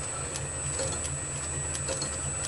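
A lathe runs steadily after being started, a constant mechanical hum with a high whine and faint periodic ticks, close and alone.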